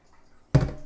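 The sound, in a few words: water poured in while making apple macchiato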